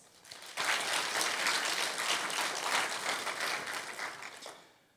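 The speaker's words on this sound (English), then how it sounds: "President Mr. Craig Hill a round of applause." A crowd applauds steadily for several seconds, a dense wash of clapping that fades out at the end.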